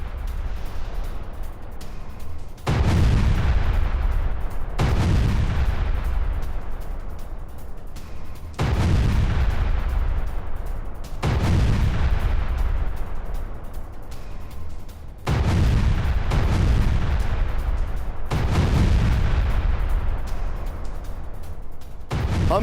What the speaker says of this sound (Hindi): एंटी टैंक गन से क्लस्टर म्यूनिशन लॉन्च किया गया